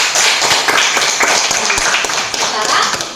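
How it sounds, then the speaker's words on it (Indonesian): Schoolchildren in an elementary classroom clap together, a loud, busy patter of many small hands with sharp individual claps and voices mixed in throughout. "Beri tepuk tangan."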